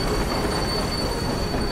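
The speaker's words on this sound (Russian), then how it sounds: "Прибытие поезда." Railway cars roll into a station in Call of Duty, wheels squealing steadily with a continuous high metallic whine over a dense rumbling clatter, loud and close throughout.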